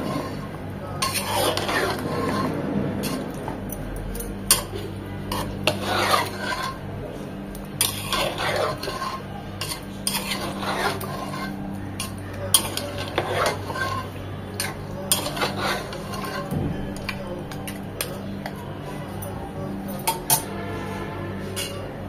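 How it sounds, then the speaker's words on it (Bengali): Chicken pieces with spices being stirred in a metal pan, repeated scraping and clanking of a spoon against the pan over a low sizzle, steady and close. "ভালোভাবে নেড়ে চেড়ে মশলার সাথে চিকেনগুলোকে মিশিয়ে নেব।"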